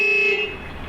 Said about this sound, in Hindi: आप जैसे ही हॉर्न बजाओगे